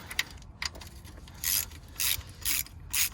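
A ratchet with a 13mm socket turns bolts loose under a vehicle, giving short bursts of quick clicking in an irregular rhythm, close and fairly loud, with no talking.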